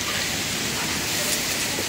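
Steady rain falls during an evening of home cooking, heard as a dense, even hiss of drops with no let-up, close and fairly loud throughout.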